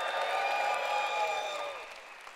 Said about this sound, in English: Make some noise if you're married in the house.